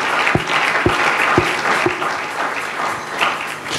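A church congregation applauds, a steady wash of many hands clapping with a few sharp rhythmic beats standing out near the start.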